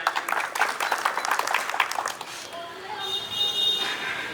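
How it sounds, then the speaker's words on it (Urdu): Audience clapping at an Urdu poetry gathering, a burst of dense applause that fades after about two seconds, followed by room murmur and a voice speaking. "زوردار تالیاں بجائیں."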